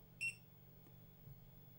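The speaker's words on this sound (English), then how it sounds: "Did you notice it just went beep" A camera control unit for a Brahma 360 rig with Xiaomi and Git2 cameras gives a single short, clear electronic beep near the start, then quiet low hum.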